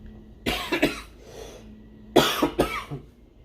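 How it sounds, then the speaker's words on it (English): Two separate coughing fits, each a cluster of two or three harsh coughs, sound close and loud against a quiet background. "that freaking cough"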